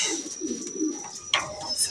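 Racing pigeons arriving at their loft give soft, low cooing calls, close and repeated, with a brief sharper rustle or chirp midway and faint background noise.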